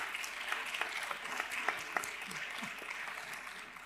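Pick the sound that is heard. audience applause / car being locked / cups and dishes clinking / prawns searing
audience applause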